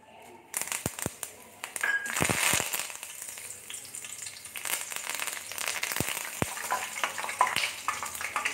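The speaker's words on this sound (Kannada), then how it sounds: "ಕೊನೆಯದಾಗಿ ಕರ್ಬೇವು ಸೊಪ್ಪು ಹಾಕೋತಾ ಇದ್ದೀನಿ" Curry leaves hit hot oil and fry with a continuous crackling sizzle, broken by sharp pops and bursts of spatter, close and fairly steady throughout.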